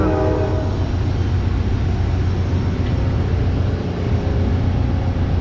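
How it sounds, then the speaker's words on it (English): A loud, steady rumble of an Amtrak passenger train departing Winter Haven station in Florida, close by, with a low droning engine and faint horn-like tones at the start, continuing without pause. "Train's getting ready to take off."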